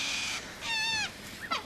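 Captive birds in a cartoon episode give a few short, bright chirping calls with rising and falling pitch, close and fairly loud, separated by brief pauses over a faint background hum.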